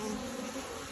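Honeybees from three full boxes swarm around an open hive during a fall inspection, a dense, steady drone that stays close and constant throughout.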